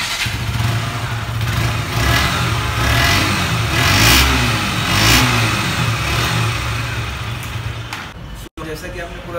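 A KTM Duke 125 motorcycle engine runs loud and close, rising and falling through several revs over a steady idle, with someone talking over it.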